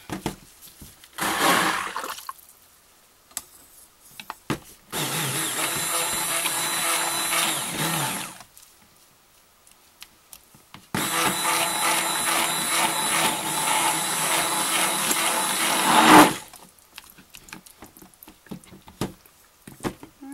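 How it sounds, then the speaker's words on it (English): A stick blender mixing cold process soap batter whirs in two long bursts, the first about three seconds and the second about five, with short pulses and quiet gaps between them. "definitely need to use the stick blender on this"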